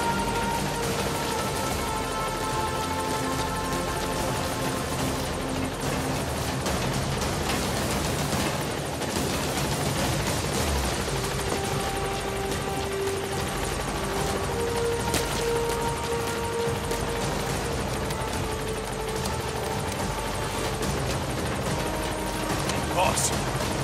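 A support helicopter in Metal Gear Solid V arrives with a continuous rotor thrum and engine whine, holding steady and loud for the whole stretch, game sounds and a voice mixed over it.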